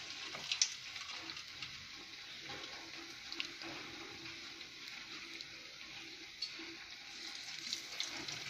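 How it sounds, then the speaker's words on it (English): Slices of brinjal coated in mixed flour frying in hot oil, a steady soft sizzle and bubbling hiss running throughout with occasional small pops, close and moderately quiet with no talking. "I can take sliced brinjal, dip in mixed flour. You can add in oil."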